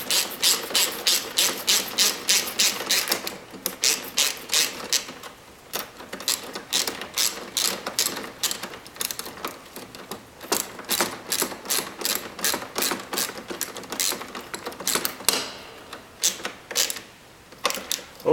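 A hand ratchet tightens the nut on a newly fitted tie rod end, giving long runs of rapid, close mechanical clicks with brief pauses between strokes, loud and clear with no talking.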